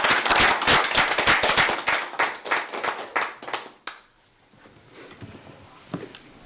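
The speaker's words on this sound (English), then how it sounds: "I think we should give Earl a round of applause" A round of applause for Earl at a town selectboard meeting, several people clapping briskly and fairly close for about four seconds before it dies away into quiet room tone.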